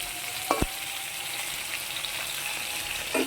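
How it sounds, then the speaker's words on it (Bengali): Fish frying in a pan at home: a steady, even sizzle runs throughout at close range, with a couple of short knocks near the start and another light clatter at the end. "তো এখন মাছ ভাজা বসিয়ে দিয়েছি।"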